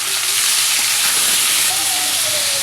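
Chopped tomatoes hit hot oil with onion and garlic already fried reddish-brown, giving a steady, loud broadband sizzle and hiss that fills the whole stretch, with faint background voices.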